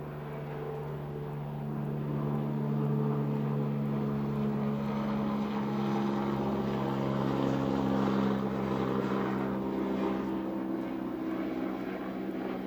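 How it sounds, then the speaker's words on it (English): An ambulance helicopter's low, droning rotor-and-engine hum passes overhead, swelling gradually and holding steady, distant at first then louder. "I think it's a helicopter ambulance by the look of it"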